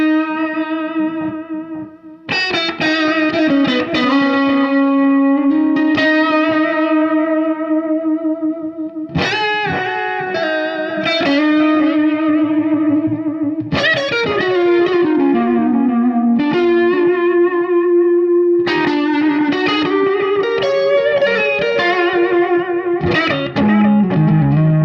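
An electric guitar plays sustained notes and chords through a vintage Maestro Echoplex EP-3 tape echo set for high repeats, with smeared, overlapping echoes and a warm, slightly distorted tone trailing each phrase.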